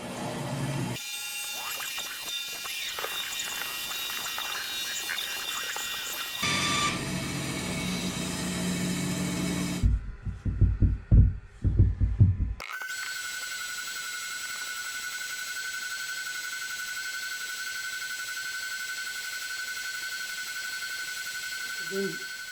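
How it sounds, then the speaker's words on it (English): A bandsaw cuts through wood. Loud buzzing cutting noise gives way to a steady motor hum with a thin high whine as the blade runs, punctuated by a few close knocks and clunks. "let's go to the bandsaw and cut that out"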